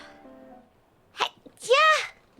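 A single sharp sneeze bursts out from a person, followed by a rising and falling vocal exclamation, with a bit of soft talking at the start.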